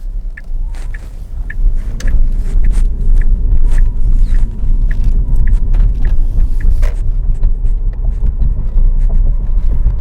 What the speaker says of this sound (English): Let's drive through a historical site now.